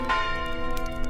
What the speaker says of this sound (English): You awaken to the sound of bells.